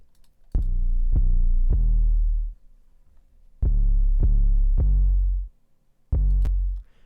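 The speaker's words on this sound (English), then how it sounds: "This is what the 808 pattern sounds like." Deep booming 808 bass kicks in three short bursts, each a quick cluster of hits with long sustained low tails, separated by silence.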